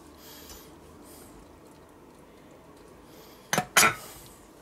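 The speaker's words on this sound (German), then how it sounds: "So, wieder eine Zwiebel. Stech mal wieder ein." Onion pieces being pushed onto metal grill skewers while making colorful skewers, heard as two sharp, close clinks of metal near the end after a quiet stretch.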